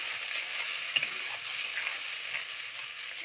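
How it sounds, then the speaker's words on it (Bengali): Tengra fish curry frying and being stirred in a pan with oil and spices, a steady close hiss of sizzling with faint scraping stir sounds, no talking. "আমি এইবার এই দেখুন একটু নাড়চাড় করে নিলাম"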